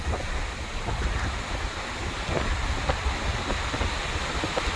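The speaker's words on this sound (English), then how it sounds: "Let's have a look at the waves." Storm-churned ocean waves along a debris-strewn shore after Tropical Storm Paeng (Nalgae) in Iloilo keep up a constant rough roar, mixed with heavy wind buffeting the microphone, loud and unbroken, with no talk.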